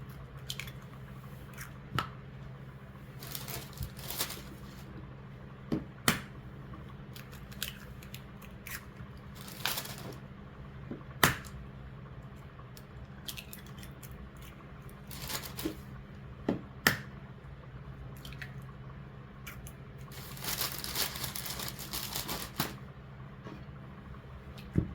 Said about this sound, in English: I'm going to whisk this together just so that I get them mixed